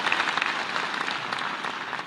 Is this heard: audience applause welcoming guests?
yes